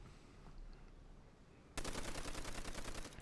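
An M1919 light machine gun in Call of Duty: World at War opens up after a quiet moment, firing a loud sustained rapid burst of closely spaced shots.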